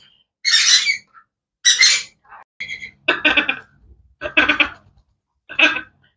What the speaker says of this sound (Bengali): এখানে দেখেন একটা অ্যামাজন প্যারট